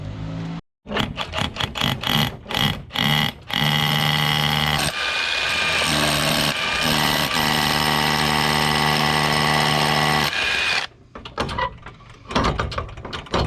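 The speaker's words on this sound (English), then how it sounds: "Now all we have to do is drill a hole." A power drill whirs loudly and steadily for several seconds, drilling a hole in a fence, bracketed by clunks and rattling clicks before and after the drilling.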